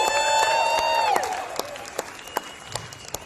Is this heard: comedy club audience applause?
yes